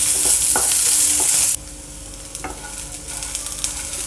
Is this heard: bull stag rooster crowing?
no